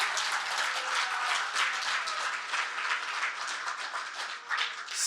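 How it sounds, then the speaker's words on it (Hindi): A large audience claps steadily and densely for about five seconds at a religious discourse, with no talking over the applause. "ताली बजाइए, अभिनंदन कीजिए"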